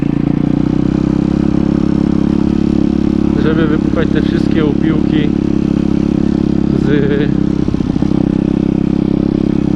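A PitBike 170 MRF Detroit with an untuned carburetor runs steadily at idle, a loud continuous low engine drone close to the microphone, while someone talks over it.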